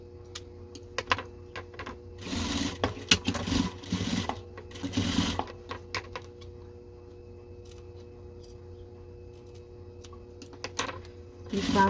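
A sewing machine stitches a patchwork pencil case in several short, rapid runs, close up, with steady mechanical clatter broken by brief pauses.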